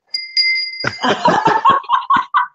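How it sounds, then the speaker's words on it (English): A bell rings once with a clear sustained ding during a live online show, followed right away by close, animated laughter and chatter from people. "it deserves a bell ring"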